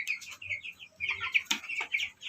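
Broiler chickens about 45 days old cluck and chirp close by in a newly built coop, a quiet run of overlapping short calls with no talk.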